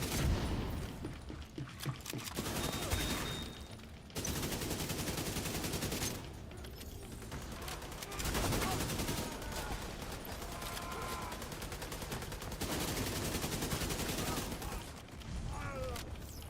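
Sustained gunfire from The Division 2 video game, dense bursts of automatic shots hammering almost continuously with brief lulls, loud and close, with faint voice in the background.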